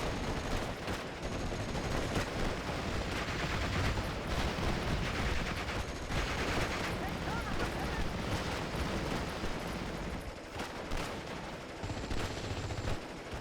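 Gunfire on a World War II Normandy battlefield in Steel Division: Normandy 44, dense and continuous, with rattling machine-gun bursts, single rifle shots and dull booms blending into a loud, unbroken din, while someone talks over it now and then.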